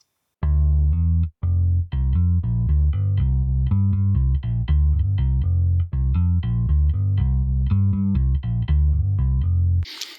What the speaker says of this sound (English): this bass was from Modo Bass